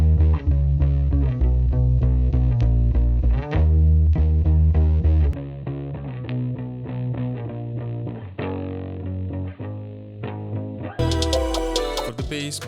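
Distorted electric guitar shaped with a saturation knob, Guitar Rig 5 distortion, EQ and reverb in a beat, playing loud chugging chords that drop to a thinner riff midway before a bright, crashing return.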